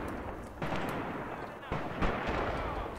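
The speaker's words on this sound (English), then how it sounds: "He just threw a grenade." A grenade explosion in the war game Graviteam Tactics, a heavy blast among rumbling battle noise and other thuds, loud and dense, with a voice talking over it.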